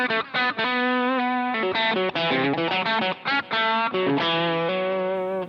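Electric guitar through a Boss GX-100 with a slightly gritty clean tone plays a series of chords and short riffs, steady and fairly loud with no voices.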